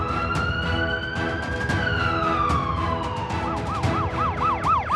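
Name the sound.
ambulance siren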